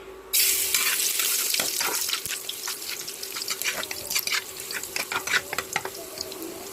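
Garlic, onion, tomato and potato sautéing in a pan for corned beef, a steady close sizzle and frying hiss with repeated clinks and scrapes of stirring throughout, no talk.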